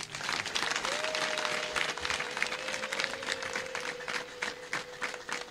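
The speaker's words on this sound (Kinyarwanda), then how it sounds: "Ntidukwiriye kubakirira tubaha amashyi." A crowd at a community gathering in Gasayo, Nyamasheke, claps continuously to welcome guests, a dense, moderately distant patter of many hands, with a faint whistle-like tone running underneath.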